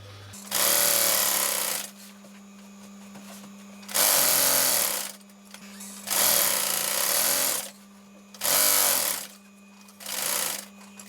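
A sewing machine stitches a zip onto camper cushion fabric in five loud, close bursts of rapid stitching, each about one to two seconds long, separated by short pauses with a low steady hum underneath.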